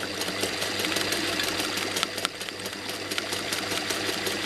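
A sewing machine runs steadily while quilting a plume design, with a dense, continuous mechanical whir and rapid needle clatter, close and even throughout.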